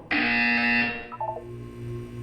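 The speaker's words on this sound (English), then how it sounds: "When you hear the buzzer, look down at the floor." A harsh electronic buzzer in the game Portal 2 sounds once, loud and close, holding for nearly a second before cutting off, followed by a few short tonal blips over a low hum.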